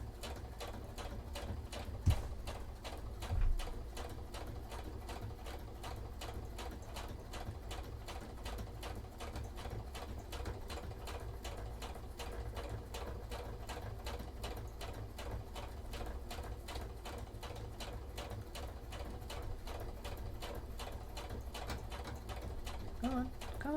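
A small sewing machine stitching the seams and sleeves of a cosplay shirt runs in a steady, continuous rapid patter close by for the whole stretch, with a couple of brief louder bumps near the start.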